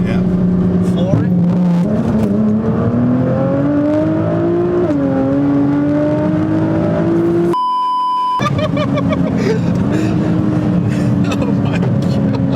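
Wide-body Nissan GT-R R35 at full throttle, its loud engine roar climbing steadily in pitch as it accelerates from cruising speed, with a brief beeping tone midway and people talking inside the car.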